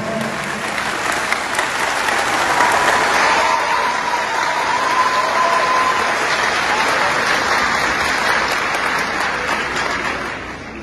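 A large crowd at a speech breaks into loud, sustained applause that holds steady for about ten seconds before starting to taper off at the very end.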